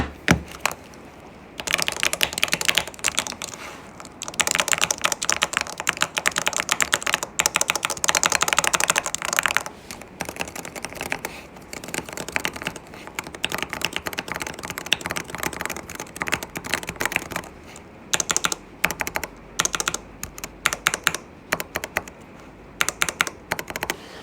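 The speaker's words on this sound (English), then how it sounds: "that's the two new clickers I got from 3D Mini Forge" 3D-printed fidget clickers from 3D Mini Forge click rapidly and loudly up close, in dense rattling runs and sharp separate clicks with brief pauses, some tapped against a table.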